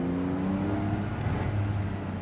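A Porsche 911 Carrera GTS of the 992 generation, 480 ps, revs with a loud, close, continuous exhaust note, a dense rumbling drone that swells slightly midway without any break.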